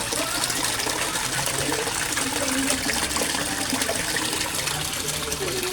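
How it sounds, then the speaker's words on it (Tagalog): Aquaspeed submersible pump churning koi pond water into masses of bubbles, a loud, steady close-up gushing and fizzing rush that continues without pause, with a voice speaking faintly beneath it. "sa sobrang lakas niya, ang daming bubbles na naproproduce niya o na-create niya"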